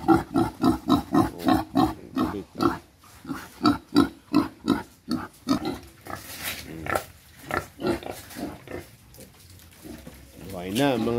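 Quezon Black piglets on a farm give a run of rhythmic, fairly loud grunts and squeals in quick pulses, growing more irregular and mixed with chatter later on.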